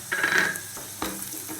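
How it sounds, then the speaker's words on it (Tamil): Onions and curry leaves sizzle in a pan for a pumpkin poriyal, with a soft frying hiss and a couple of brief stirring scrapes. "கருவேப்பிலை போட்டு நல்லா வெங்காயம் வதங்குற அளவுக்கு வதக்குங்க"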